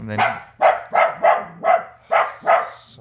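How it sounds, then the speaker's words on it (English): A dog barks seven times in quick, fairly even succession, loud and close, with a short bit of speech at the start. "sorry for the dog barking"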